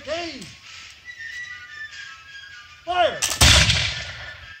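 A color guard firing demonstration: a loud, close musket-style volley booms out near the end, after a pair of falling whistle-like tones and a steady background hum.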